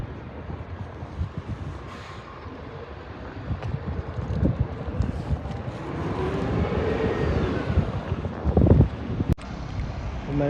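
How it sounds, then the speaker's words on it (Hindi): Strong wind gusts buffet the microphone outdoors on a Spanish street, a continuous low roar that swells and rises toward the end, with a sharp knock near the close. "तगड़ी हवा चल रही है।"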